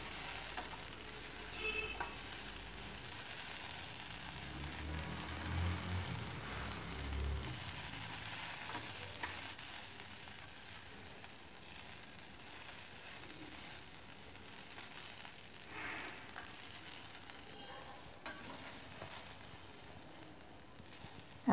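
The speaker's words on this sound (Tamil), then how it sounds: "ஒரு 2 நிமிஷம் வதக்கினீங்கன்னா போதும்." Okra sautés in hot oil in a pan for sambar, giving a steady, close crackling sizzle with faint stirring scrapes throughout and no voices.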